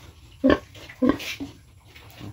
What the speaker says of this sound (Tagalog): Tapos ito na si Carla, yung native pig natin na upgraded, 1 month na buntis.